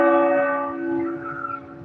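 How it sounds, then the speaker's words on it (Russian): Bells of a Catholic church, Saint Martin's, ring out with a bright, resonant tone, a single struck chime sustaining and slowly fading across the clip, heard clearly with no talk over it. "Слышите? Колокола бьют."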